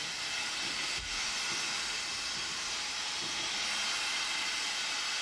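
Steam train Lochaber in Scotland: a steady broadband hiss of escaping steam with faint low rumbling, moderately quiet and continuous, no voices.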